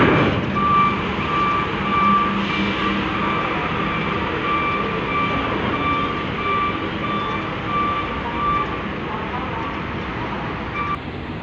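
A truck reverses among queued lorries at Merak ferry port, a steady repeating beep sounding through a constant rumble of engines and crowd noise, with a voice speaking over it.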